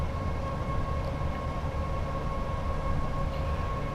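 A train in Train Sim World 5 runs downhill with its brakes applied on a Glasgow to Stratford route, giving a steady, loud rumble with a sustained whine that never lets up.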